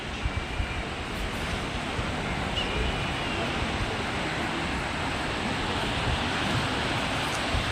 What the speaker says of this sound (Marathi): शांतता आणि समुद्र